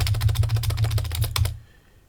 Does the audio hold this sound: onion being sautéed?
no